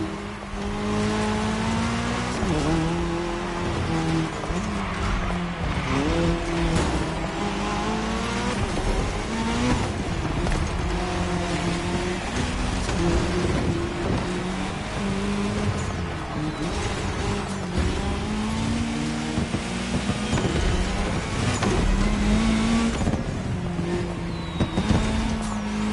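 Race cars in the cross-terrain racing game The Crew Motorfest, played on a Logitech wheel: a continuous loud engine drone with rising and falling revs and occasional tire squeal throughout.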